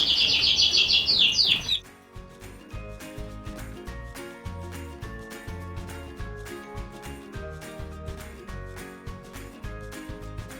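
Border canaries in a birdroom, a brief burst of bright chirping song up close, then quickly overtaken by rhythmic background music.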